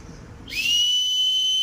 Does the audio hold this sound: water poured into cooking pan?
no